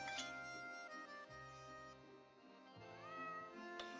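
A domestic cat meows several times, close and clear, a few drawn-out calls with short pauses between them, set against quiet background music.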